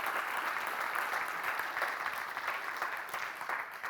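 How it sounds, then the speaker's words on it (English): Audience applause at an online food-safety seminar, a steady, even wash of clapping that holds through the whole stretch with no talking over it. "big applause."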